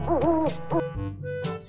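An owl hoots in a short series of tonal, harmonic calls, fairly close and clear, with no talking.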